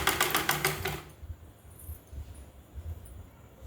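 A sewing machine stitches a blouse in a fast, steady run of needle strokes for about a second, then stops, leaving quiet handling noises and faint room sound.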